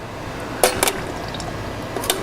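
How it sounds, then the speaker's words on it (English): Air bubbles escape from a guitar pickup from a fake Les Paul held under liquid, giving a few soft gurgling pops and drips, two quick ones close together then a later one, near and quiet. "See all those bubbles come out?"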